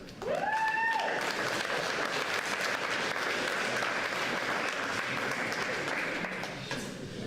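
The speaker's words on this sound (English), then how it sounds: "give your family and friends a big round of applause" A graduation ceremony crowd breaks into sustained, loud applause that fills the hall evenly, with a few whistles at the start, before tapering slightly toward the end.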